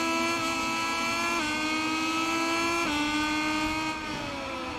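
Moto2 motorcycle engine in MotoGP 21 at Silverstone, a high buzzing whine that climbs steadily in pitch with quick dips at each gear shift, loud and continuous with no talk.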